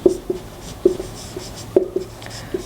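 A pen or chalk scratches out handwritten Sanskrit numerals in short, spaced strokes, several distinct taps and scrapes close up with no talking over them.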